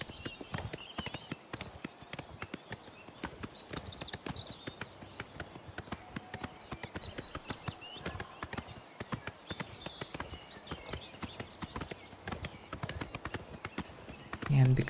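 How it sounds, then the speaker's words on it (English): Horse hooves galloping in Oblivion Remastered, a steady rapid clip-clop running throughout under game music and continuous talk. "And because I've always aggroed something when I run on a horse"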